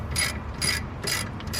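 A hand ratchet clicks in quick repeated bursts while tightening brake caliper bolts on a 2004–2008 Acura TL rear brake, crisp and close with no voices.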